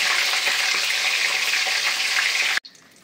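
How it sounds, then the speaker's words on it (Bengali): Chicken pieces fry in hot oil left from frying onions, a loud, close, steady sizzle that cuts off abruptly before a quieter tail. "তো দেখো এবার আমি চিকেনটা ভাজতে শুরু করে দিয়েছি।"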